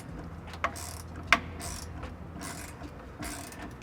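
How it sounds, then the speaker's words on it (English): A hand ratchet starts a bolt's thread on a tank strap, giving a series of quick close clicking strokes at an uneven rhythm, with a couple of sharper metallic ticks among them. "I'm just going to use the ratchet to get the thread started to make sure we don't strip anything."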